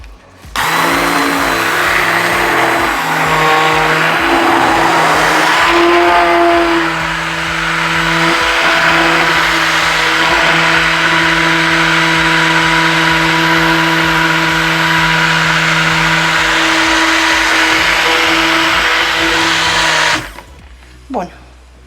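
An electric mixer whirs steadily and loudly through cake batter for a Romanian apple pie, a continuous droning hum that shifts pitch slightly as it works, with a voice talking over it before cutting off near the end.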